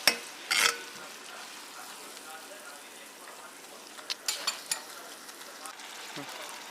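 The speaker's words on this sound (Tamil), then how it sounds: "தக்காளி சேர்த்ததுக்கப்புறம் இதில் இருக்க எண்ணெய் பிரிஞ்சு வர வரைக்கும் நல்லா வதக்கிக்கோங்க" Ground tomato sautéing in oil for a spicy fish fry, a soft, steady sizzle beneath occasional light scrapes and taps of a stirring spoon.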